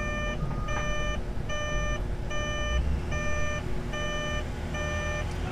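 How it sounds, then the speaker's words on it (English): A steady series of electronic beeps repeats at an even pace, each short pulse clear above constant low rumbling background noise. "So beeping will stop now."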